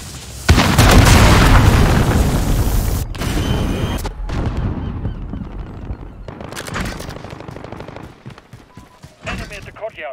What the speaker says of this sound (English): Missile incoming.